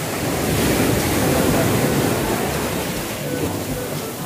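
Strong ocean waves surge and break at Isla Jardin Del Mar in Glan, Sarangani, a loud continuous roar of surf with wind buffeting the microphone.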